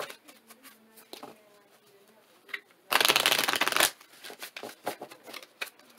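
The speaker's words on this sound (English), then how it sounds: "We're going to pull three Moonology Oracle Advice cards for you" Moonology Oracle Advice cards are riffled in one dense, loud shuffle lasting about a second, set among softer handling taps and light card slaps on either side, with no speech.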